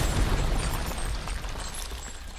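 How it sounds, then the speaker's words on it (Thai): A grenade explodes in the video game Resident Evil Village, a heavy, loud rumbling blast with deep low boom and broad debris noise that slowly decays. "ระเบิดไปเอาไปใส่เฮ้ยโยนใส่ตรงนี้ครับ"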